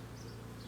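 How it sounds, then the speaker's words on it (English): Bees swarm thickly around the side of a beehive during a spring hive inspection, making a close, steady, dense buzzing drone for a brief moment with no talk. "God, there's so many bees on the side now."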